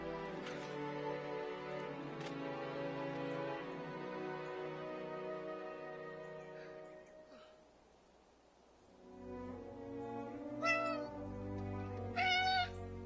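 A cat in the video game Eleven Eleven meows several times, drawn-out tonal cries with rising and falling pitch over soft game music, clear and close, with a short quiet gap midway.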